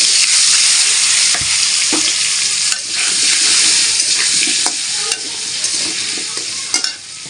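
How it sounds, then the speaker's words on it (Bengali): Potatoes and taro sizzle steadily in hot oil seasoned with salt and turmeric, a loud, continuous frying hiss broken by occasional stirring scrapes and clinks. "এখন একটু তেলের ভিতরে একটু লবণ আর একটু হলুদ দিয়ে আলুটা আর হচ্ছে কচুটা ভেজে নেব।"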